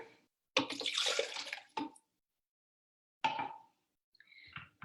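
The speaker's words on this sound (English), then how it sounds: "And you want to put an equal amount of water in the blender." Water poured from a kettle of boiling water into a blender jar while making tofu with chickpea flour, two separate pours of splashing, gurgling liquid, close and moderately loud, with short pauses between.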